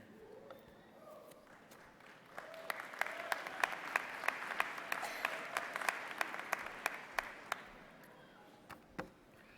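Applause from a graduation ceremony audience, a steady wash of many hands clapping that swells in the middle and fades out, with some sharper individual claps standing out.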